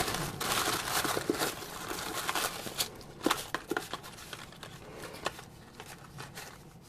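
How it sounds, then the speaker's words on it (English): Tissue paper packaging around a bracelet is unwrapped up close, quiet crinkling and rustling in irregular bursts with a few sharper crackles. "So it comes in this nice tissue paper."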